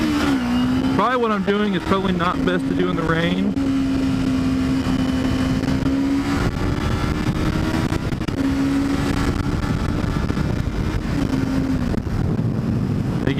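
A 2008 Kawasaki Ninja 250 motorcycle pulls away from a first-gear start in the rain, its engine note climbing in rising sweeps before settling into a steady drone, with wind rumble and a rider talking over it.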